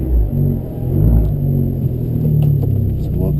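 A lowered Abarth driving in sport mode gives a steady low engine and road rumble with a slight rise in revs, heard from inside the cabin at a constant moderate level.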